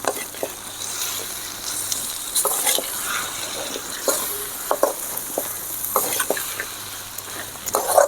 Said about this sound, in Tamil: இதை சேர்த்துக்கிட்டு நல்லா அந்த மசாலாவோட கலந்து விடணும்